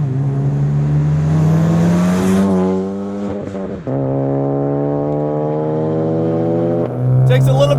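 Turbocharged Ford Focus ST with over 400 horsepower accelerating hard, its engine note climbing steeply in pitch through the gears with a sharp break at a shift, loud and close, while someone talks over it.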